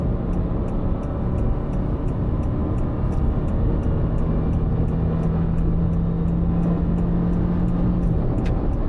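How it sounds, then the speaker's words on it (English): A 2024 Honda City RS engine drones loud and steady in 4th gear while accelerating toward high revs on a hill road, a sustained hum with a slowly rising tone over constant road noise, no talking. "When you accelerate, then you hear the engine revs"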